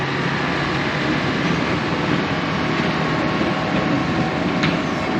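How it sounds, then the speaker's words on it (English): A train rumbles past near the Bundaberg Botanic Gardens, a loud, steady broadband roar that fills the whole stretch with no letup. "Yep, it's a train."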